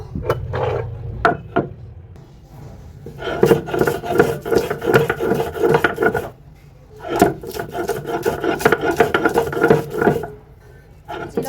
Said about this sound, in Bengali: রান্না করার আগে হচ্ছে আমি বেটে নিব মশলাগুলো ভালো করে বেটে মশলা বেটে নিব